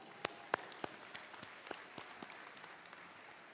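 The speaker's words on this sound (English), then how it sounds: "Let's give them another round of applause." A graduation audience at Marion-Franklin High School gives the choir a faint, thinning round of applause, with scattered individual claps spaced out across a hushed hall.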